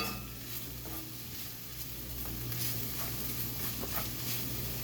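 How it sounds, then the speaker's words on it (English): Baby portobello mushrooms cook in a pan with a steady, soft sizzle and occasional stirring scrapes, close and continuous with no talking. "they're baby portobellos. And we're just going to cook those a little bit."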